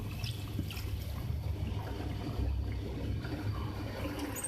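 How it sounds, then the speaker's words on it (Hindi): Water pours steadily into a pot of beef and potato curry (aloo gosht), a continuous soft trickling and filling wash throughout, with no talking. "और अब मैं इसमें वाटर ऐड कर रही हूँ"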